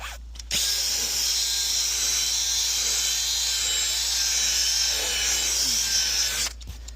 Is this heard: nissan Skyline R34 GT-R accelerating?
no